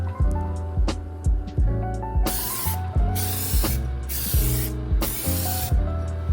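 An aerosol spray can coats aluminum off-road inner fenders for a Jeep JLU in a heavier second coat, with repeated bursts of hissing spray alongside rhythmic rattling and mechanical clicks, close and steady throughout.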